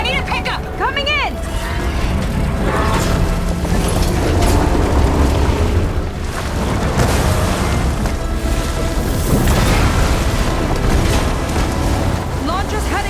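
A heat sink blows up in the video game Horizon Forbidden West, a loud sustained rumbling blast with booming bursts and roaring debris under game music, while voices talk over it.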